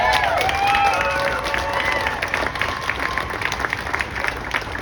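A crowd at a rally applauds and cheers, a broad wash of clapping and voices that stays loud and continuous, with a few high shouts near the start.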